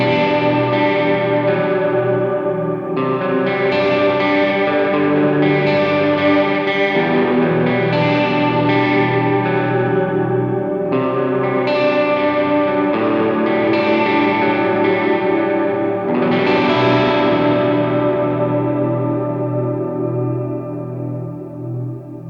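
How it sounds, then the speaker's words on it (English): Sustained electric guitar chords wash through a lush shimmering reverb pedal with added chorus, bright octave-up tails swelling and ringing out between changes. "It's basically shimmer but with added chorus."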